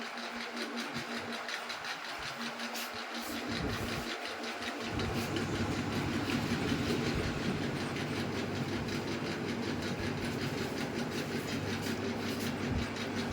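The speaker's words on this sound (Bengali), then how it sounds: "কীভাবে মেশিনটা আমি চালাচ্ছি" An electric hair clipper buzzes steadily through a men's zero-cut haircut, a close mechanical drone that grows louder and denser midway as the blades work along the hair.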